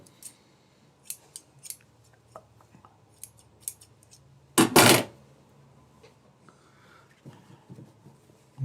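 Scissors snip repeatedly through frayed fabric in short, crisp, fairly quiet cuts spaced irregularly, with one louder burst of rustling handling in the middle and faint background rumble.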